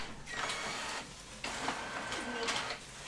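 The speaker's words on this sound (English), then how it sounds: "Why is my printer printing?" A home printer running a print job, with mechanical whirring passes that start and stop in repeated bursts, fairly close and steady, with no talking.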